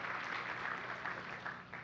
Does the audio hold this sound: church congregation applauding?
yes